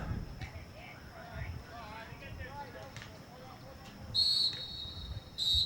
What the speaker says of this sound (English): you're going to hear a whistle blow